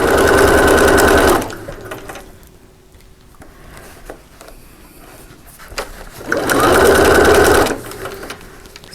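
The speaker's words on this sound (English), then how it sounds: "Little back stitch to hold." A sewing machine back stitching fabric, with two loud, fast mechanical bursts of stitching separated by a quieter pause with faint handling sounds.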